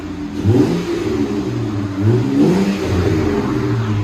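A 2016 Jeep Wrangler V6 with a Borla Pro XS true dual exhaust revs twice, a deep rumbling rise and fall over a steady idle, close and fairly loud.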